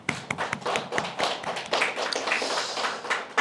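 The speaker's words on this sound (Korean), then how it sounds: "우리 여호수아 같은 은비 간사에게 우리 박수 칩시다" A church congregation claps together in a dense burst of many hands, fairly loud and sustained for several seconds, with no talking over it.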